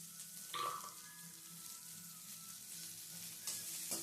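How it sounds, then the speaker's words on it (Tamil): Sweet potato fry sautés in a pan with a steady, low sizzle and occasional stirring scrapes. It sounds close but quiet, with a few brief louder crackles. "நல்லா வதக்கணும்"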